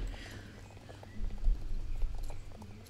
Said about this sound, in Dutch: Ik vind het wel knap hoe dat deze paarden gewoon zo goed doorlopen.